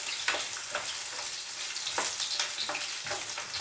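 Onions frying in a pan, cooked in a large batch for several people, give a steady close sizzle with scattered crackles and occasional stirring scrapes, with no voices.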